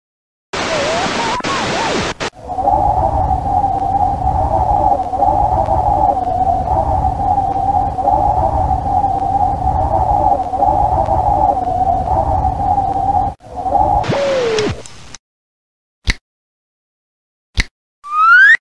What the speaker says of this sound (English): Strong wind.